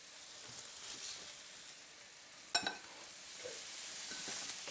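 Pieces of coated beef browning in a frying pan for beef stroganoff, a soft, steady sizzle with a sharp crackle partway through and faint stirring.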